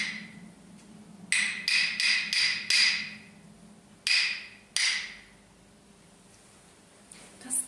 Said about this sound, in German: spielen jetzt nur meine Klanghölzer, ohne die Worte dazu